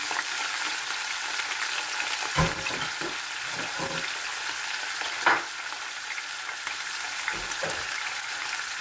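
Chicken frying in a crowded pan of oil, a steady close sizzle broken by a few sharper spatter pops and brief stirring knocks.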